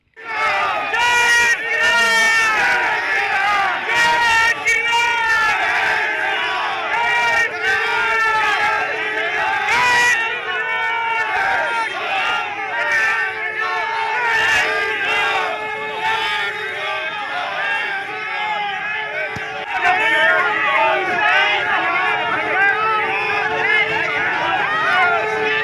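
Activists push against a police barricade at a city crossroads in India, a loud, dense mass of shouting and chanting voices that keeps going without pause.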